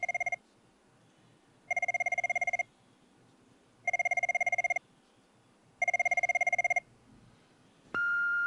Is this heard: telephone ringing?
yes